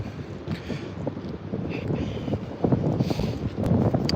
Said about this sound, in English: Oh, it's even windy up here.